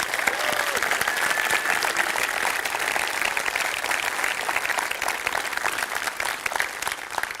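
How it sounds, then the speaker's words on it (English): Dense, crisp applause from an audience at a startup pitch competition grand final, many hands clapping rapidly and continuously at a steady loud level for several seconds with no voices on top. "Can I just ask for a quick round of applause to all of the teams who took part in tonight's competition"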